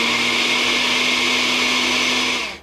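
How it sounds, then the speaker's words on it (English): A blender whirs loudly and steadily, grinding grains and salt into a fine flour for gluten-free pancakes, then winds down at the end of a single short pulse. "we're going to pulse that again until it makes just kind of a fine wheat-like flour"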